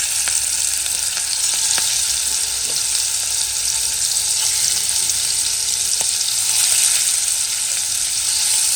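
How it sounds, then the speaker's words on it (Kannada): Marinated prawns frying in oil in a pan for a biryani, a loud, dense, constant sizzle close up with a few faint utensil ticks, no voices. "ಮ್ಯಾರಿನೇಟ್ ಮಲ್ದಿನ ಎಟ್ಟಿನ ಒಂಚೂರು ಫ್ರೈ"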